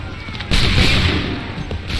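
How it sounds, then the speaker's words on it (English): Musket volleys and artillery fire in the video game Assassin's Creed III during a Revolutionary War battle: a sudden loud, booming burst of gunfire that rolls on and slowly fades. "Open fire."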